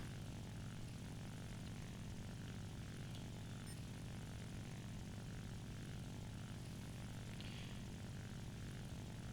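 Propeller fighter aircraft engines in War Thunder, a P-39 Airacobra and a Bf 109 among them, a continuous droning engine roar that holds steady and loud for the whole stretch with no voices.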